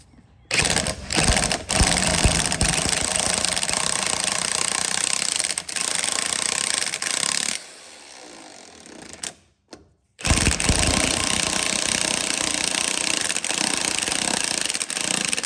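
A power tool drives a socket to tighten a puller and free a stuck brake hub on a Kawasaki Mule SX. It makes a loud, continuous hammering rattle broken by a few short pauses and a brief drop in level.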